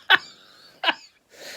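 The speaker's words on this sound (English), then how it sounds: "and then I start coughing" Two sharp, separate coughs from one nearby person, about three quarters of a second apart, followed by a softer rustle.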